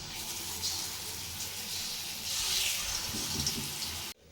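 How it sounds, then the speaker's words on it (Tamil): Sweet bonda batter drops into hot oil and fries with a steady, close, hissing sizzle that swells slightly partway through before stopping abruptly. "எண்ணெய் நல்லா சூடாகிடுச்சு அடுத்து நம்ம போண்டாவை போட்டுக்கலாம்"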